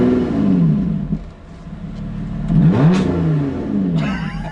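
A one-off Lotus Exige 430 Cup Type 49 engine revs up and drops back in several loud, close blips. The sharpest rise comes near the middle, with a high whine climbing in at the end.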